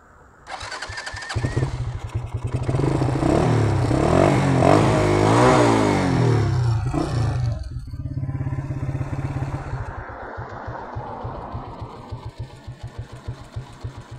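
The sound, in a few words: motorcycle engine starting and revving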